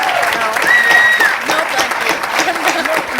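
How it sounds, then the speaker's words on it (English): Audience applause at a museum cast reunion event, a steady wash of clapping from a crowd sustained throughout, with a brief whistle-like tone rising above it early on. "How about a round of applause for this?"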